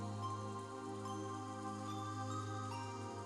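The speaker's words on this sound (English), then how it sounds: "As we listened to the sound of the rain" Rain falls in the visual novel Umineko as a soft, steady wash that stays faint under a low sustained musical drone, with no talking.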